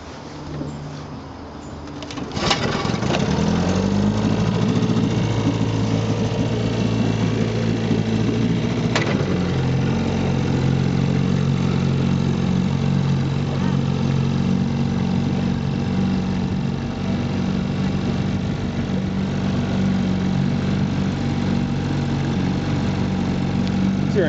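A 1958 Johnson CD-15 outboard fishing motor, a 5 1/2 hp two-cylinder, starts after a few pulls and then runs steadily at a close, loud, even idle hum that continues throughout.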